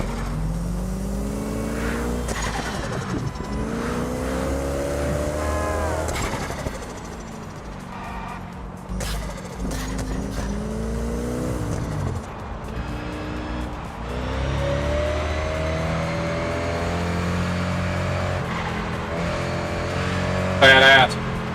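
A Bugatti Veyron SS engine in the Test Drive Unlimited Solar Crown racing game revs and climbs through gears. Repeated rising and falling engine whines run loud and close, with tire squeal and someone talking over the top.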